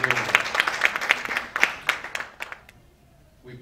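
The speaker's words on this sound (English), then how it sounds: "If you believe, clap your hands for the Lord." A church congregation claps their hands in praise during a sermon, a series of loud, fairly rhythmic bursts of clapping that thin out and fade to near silence after about two and a half seconds.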